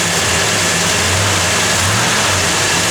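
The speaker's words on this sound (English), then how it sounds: "Let's give it a little rev." A 1969 Plymouth Road Runner with an RV cam revs loudly and close, its engine rising in a steady throaty roar over a constant rumble, with no voices.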